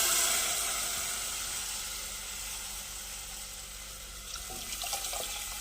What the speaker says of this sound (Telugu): తీసి పెట్టుకున్న పాలు దీంట్లో పోసుకోవాలి